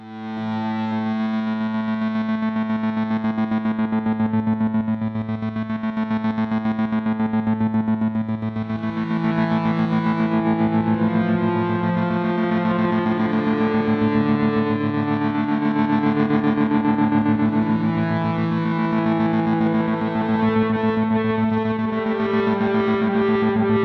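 The Tyrell Corporation preset from Sample Logic's Guitar Fury, a heavily effected, distorted guitar drone with steady sustained harmonics and slowly shifting upper tones, loud and continuous without talk.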